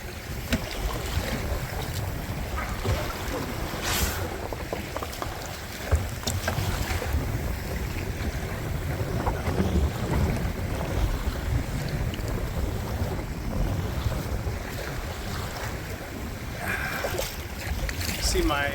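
A kayak paddled on choppy water near Smith Point, Virginia, with waves slapping the hull and wind buffeting the microphone in a loud, continuous rush, occasional splashes standing out.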